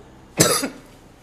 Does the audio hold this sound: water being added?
no